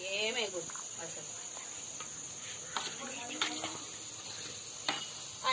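Frying food stirred in a kadai gives a continuous sizzle with scraping strokes of a spoon against the pan and a few sharper clinks, close and fairly steady over a high hiss.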